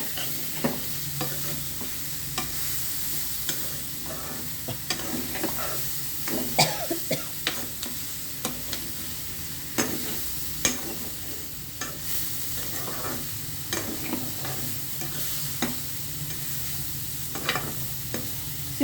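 Bitter gourd curry is stirred in a pan with a quiet bubbling sizzle under repeated scraping strokes of a spoon, and a cough or throat-clear is heard along the way.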